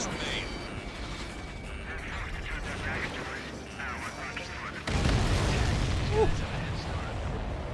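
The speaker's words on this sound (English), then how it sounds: "Hope you're all enjoying the pretty fireworks." Explosions boom in the aerial combat game Ace Combat 7, heavy rumbling blasts under a steady roar, swelling sharply louder about two thirds of the way through; a voice is also present.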